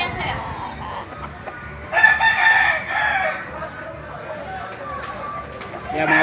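Roosters crow over a busy gamefowl market in Lipa City, Batangas, with clucking and background chatter as people talk nearby throughout.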